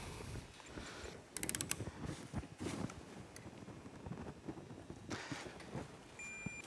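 A torque wrench tightens an engine bolt on a Yamaha R6 during a rebuild, giving a few short ratcheting clicks and creaks amid close workshop handling noises, with a louder burst of clicks early on.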